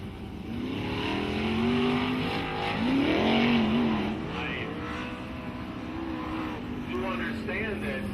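Sprint cars race on the dirt track at I96 Speedway, their engines droning and rising and falling in pitch as they circle, loud and steady throughout.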